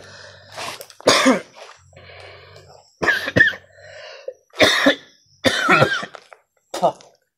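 Several harsh, bursty coughs from a man with a sore throat come in quick clusters, close and loud, with short quiet gaps and a faint low hum between them.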